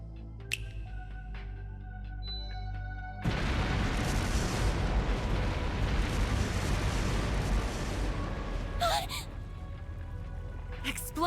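Explosive artifacts go off in the video game Trails Through Daybreak: after a short lead-in of music, a sudden loud blast gives way to a sustained, rumbling roar of explosions that slowly fades, with a brief voice near the end.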